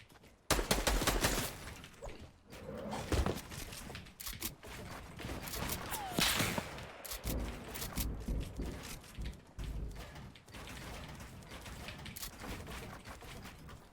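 Rapid gunfire and sharp sniper shots from a video game battle ring out close and loud in dense, overlapping bursts that run nearly without pause from start to finish.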